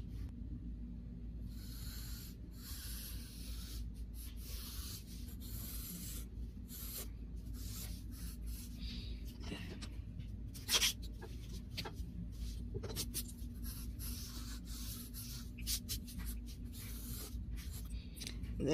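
Pencil sketching a human head on paper, the construction stage of the Loomis head method, with faint, close scratchy strokes in short bursts and pauses over a low steady hum, with no talking.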